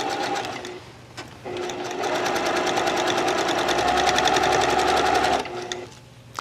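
A sewing machine runs steadily on a basic 2.5 stitch around the curved neckline of a little black dress's lining facing, with brief pauses at the start and end of the seam.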